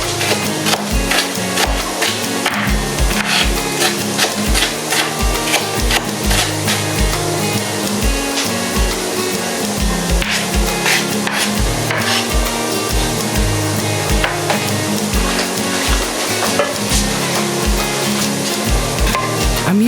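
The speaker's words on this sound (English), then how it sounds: "Now I'm going to chop my onions." Onions being diced fine on a wooden cutting board: a dense, steady run of rapid knife strikes that continues loud and close without pause.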